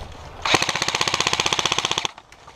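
An airsoft gun fires a rapid automatic burst during a team deathmatch, a steady rattling string of about twenty-five close, loud shots lasting under two seconds before cutting off.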